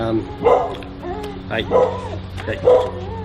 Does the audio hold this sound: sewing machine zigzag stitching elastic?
no